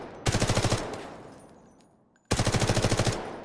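An automatic weapon in the video game Delta Force fires two rapid bursts of evenly spaced shots, separated by a fading pause, loud and close.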